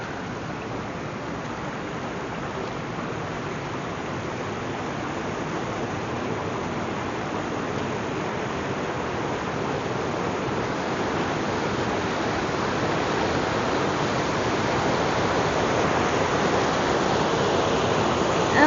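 Water pours over the weir of a mill pond on a hydroelectric mill property in a loud, unbroken broadband roar that holds steady and swells slightly toward the end, close by with no other sounds.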